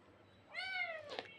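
A cat gives a single short, clear meow nearby, rising and then falling in pitch, against a quiet background.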